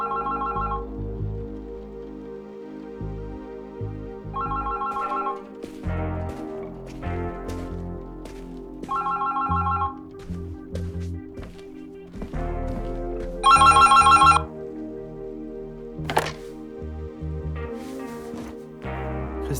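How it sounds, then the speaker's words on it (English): An old telephone bell rings indoors in an apartment, in several evenly spaced bursts of repeated rings over a steady low background, with one louder ring near the end. "The phone? Ugh. That's all I need right now."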